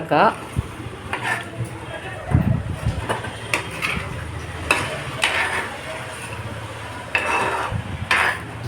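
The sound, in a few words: stirring spice masala with salt for small prawn pickle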